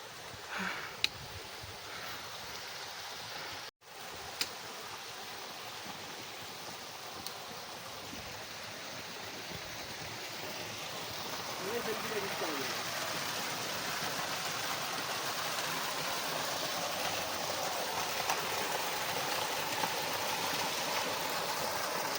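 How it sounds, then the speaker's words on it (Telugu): A small waterfall and stream on the Bramhatal trek, a steady broadband wash of flowing water that holds evenly throughout and grows slightly fuller midway, with no voices. "మళ్ళీ ఒక చిన్న వాటర్ ఫాల్ వచ్చింది."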